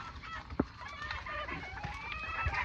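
Chickens in a barn of Olive Egger birds, including blues, give scattered clucks and soft calls over steady coop background noise, with one brief sharper call near the start.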